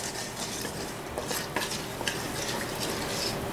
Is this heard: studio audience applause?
no